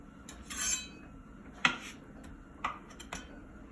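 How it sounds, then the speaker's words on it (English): A knife taps against a cutting board while chopping peeled beets, with a few sharp, sparse knocks and soft scraping in between, close and quiet. "I'm gonna just chop them into little pieces"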